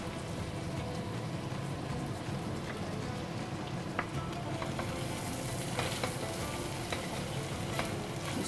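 Rice stirred into a vegetable sauce in a pan makes a constant close sizzle and bubbling hiss, with occasional soft scrapes and clicks of the spoon against the pan.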